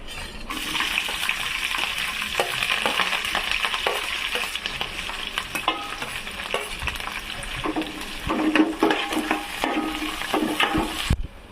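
Curry leaves, onions and green chillies frying in hot oil for a ridge gourd curry, a steady close sizzle with scraping stirs and spatula knocks against the pan throughout, louder bursts near the end, no talking.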